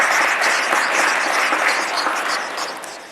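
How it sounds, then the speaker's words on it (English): A short burst of audience applause at a governor's public announcement in Western New York, dense clapping that fades slightly toward the end. "So we want to applaud you for that."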